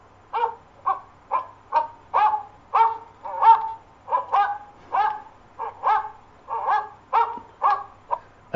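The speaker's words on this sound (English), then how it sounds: "dogs barking" A dog barks repeatedly in a steady, evenly spaced series, about a dozen sharp barks, clear and close with no other sounds.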